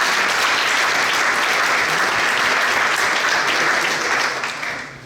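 Applause from a council assembly electing members by acclamation in Ecublens, loud continuous clapping from a roomful of people that holds steady and then tapers off at the end.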